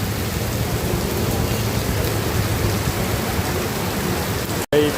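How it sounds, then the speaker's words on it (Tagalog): Heavy rain pours during a storm on a street in Parañaque, a dense, loud, continuous roar of water hitting surfaces close by, steady throughout with a brief cut near the end. "ang lakas ng ulan guys"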